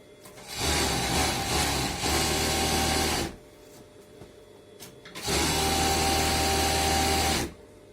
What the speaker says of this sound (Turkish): Yan dikişlerine mutlaka singerlerimiz çekilecek